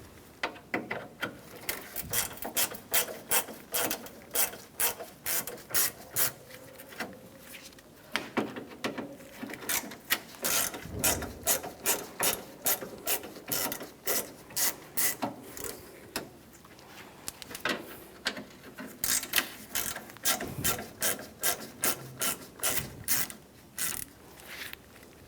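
Phillips screwdriver backing out the top grille screws on a 1997-2001 Honda CR-V, a long series of rapid clicking, ratchet-like bursts close by, coming in quick runs with brief pauses between them and no talking.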